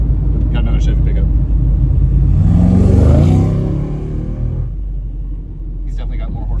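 A 1955 Chevy pickup rumbles along the road, its engine swelling to a louder rev in the middle before easing back to a lower drone, with some talk in the cab.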